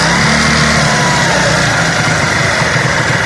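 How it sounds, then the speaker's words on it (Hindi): A Honda CD 70 motorcycle engine runs close and loud at raised revs during a petrol mileage adjustment, a steady continuous drone with faint vibration and no talking. "ये देखिए रेस तेज़ कर दी हमने इसकी"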